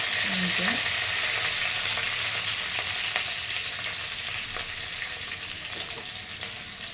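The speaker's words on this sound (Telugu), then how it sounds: "పచ్చిమిర్చి వేసాను ఇది ఫ్రై అవ్వాలి" Green chillies fry in oil in a pan, a steady close sizzle with occasional stirring scrapes and light pops, continuing without talk throughout.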